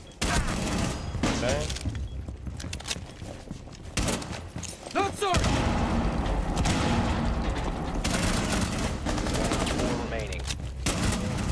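SMG gunfire in a video game crackles in rapid bursts amid mechanical clicks, booms and busy combat noise, with voices talking over parts of it.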